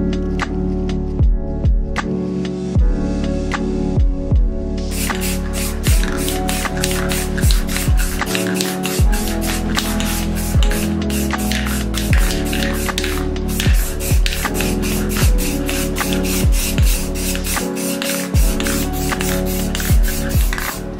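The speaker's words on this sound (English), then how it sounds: "Spraying about 3 layers of white just to make sure it covered all of the red that was underneath" Short repeated bursts of spray paint as layers of white and glow-in-the-dark paint go onto a skateboard deck, steady and fairly close, set under continuous background music.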